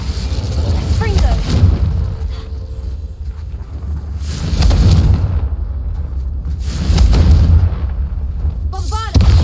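Confringo fire spells blast repeatedly while a player breaks vases in Hogwarts Legacy, each cast a loud booming burst with crackling tails, several blasts spread across the stretch while a voice calls out spell names.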